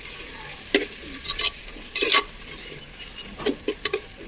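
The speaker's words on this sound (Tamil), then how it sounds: "ஸோ தக்காளி நல்லா வதங்கட்டும்." Tomatoes sautéing in a pan for chicken biryani, with a low sizzle and scattered spoon scrapes and stirring clatters coming in short bursts, close by and without speech.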